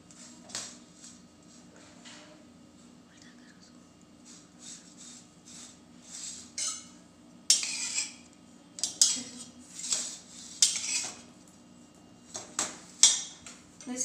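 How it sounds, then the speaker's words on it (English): Leftover rotis shaped into tacos roast on a greased pan, giving light clinks and scrapes of utensils against the pan, scattered irregular taps that grow louder and sharper toward the end, with no talking. "grease the pan and roast the tacos from both the sides"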